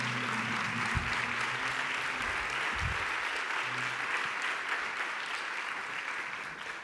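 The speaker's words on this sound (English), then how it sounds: "Another round of applause for Michelle" A crowd at a health and wellness event claps in sustained, even applause at moderate volume, with a few low murmured voices and brief thumps underneath early on, tapering slightly toward the close.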